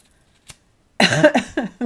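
After a small click and a pause, a few harsh, close coughs follow in quick succession.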